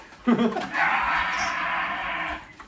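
A human voice imitates a hungry bird during a tabletop role-playing game session, letting out a shrill, sustained screech that holds steady for a couple of seconds before cutting off.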